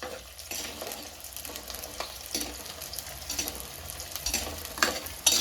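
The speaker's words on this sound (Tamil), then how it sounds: "இப்போ நான் வெங்காயம் சேர்த்துக்கிட்டேன், கருவேப்பிலையும் அது கூட சேர்த்தாச்சு." Onions and curry leaves sauté in a pan for a fish curry, giving a steady close sizzle broken by frequent scraping stirs and light clinks, with no voices.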